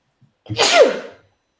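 A single loud sneeze close by, a sharp burst that trails off after about half a second, with no talking around it.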